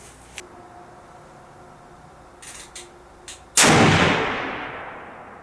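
A 7mm PRC rifle with an Outlier barrel fires a 180 grain ELDM bullet over 74 grains of surplus WC872 powder. One loud, sharp report rings out after a few faint clicks and then decays slowly.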